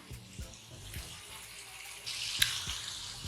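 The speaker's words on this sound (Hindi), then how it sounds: "अब मैं इसमें पानी डाल रही हूँ ताकि गोश्त हमारा जो है अच्छे से गल जाए।" Water is poured into a pot of beef being cooked for balti gosht, a soft running splash that swells near the end, with faint rhythmic kitchen knocks underneath and no talk.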